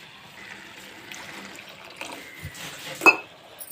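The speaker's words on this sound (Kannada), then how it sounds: "ಇದಕ್ಕೆ ಸ್ವಲ್ಪ ನೀರು ಹಾಕಿ" Water is poured into a cooking pot of vegetable curry in a village kitchen, a soft, fairly quiet trickling that ends in a brief louder splash near the finish.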